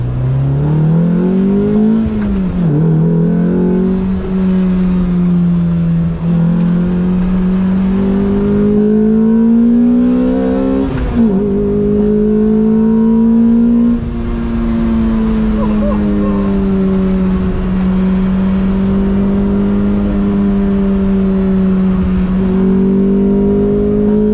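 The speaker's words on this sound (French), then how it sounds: "De 6200 tours jusqu'à la zone rouge, parce que vous avez entendu, il y a un rupteur." A Lotus Exige S2 engine revs hard again and again on a favourite stretch of road, rising and falling with the pitch climbing toward the rev limiter. It is loud and close and runs throughout with a steady drone.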